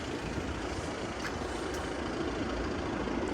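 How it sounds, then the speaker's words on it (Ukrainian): A 2017 Audi A5 with a 2.0 TDI diesel engine and automatic gearbox runs at idle. It gives a quiet, steady, even rumble with no voices. "Чуєте, так працює мотор?"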